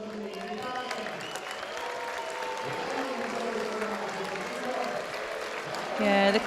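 Crowd at a judo event in Prague applauding steadily after a winning counter throw, broad and sustained, with a commentator's voice faintly over it and a brief louder swell near the end.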